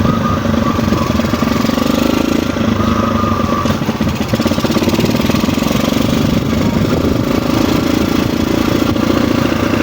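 A motorcycle engine runs steadily and loudly throughout at a close, constant idle-like drone, with no talk over it.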